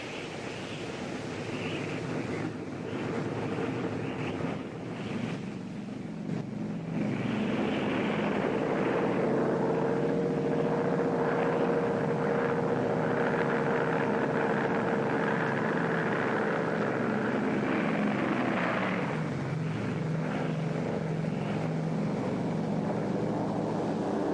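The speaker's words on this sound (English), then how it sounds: "Radar has picked up large formations of Japanese planes." Large formations of WWII Japanese warplanes drone overhead, a steady broad engine roar that swells and holds loud and unbroken for the whole stretch.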